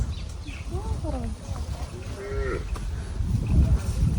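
A cow near a paddy field lows in a few short, rising calls amid rural background noise, while people talk nearby.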